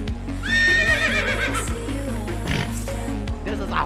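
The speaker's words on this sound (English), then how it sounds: "This is a horse." A horse gives a loud, close whinny with a rising, wavering pitch, followed by snorts and hoof clops. Low rumbling sounds continue underneath.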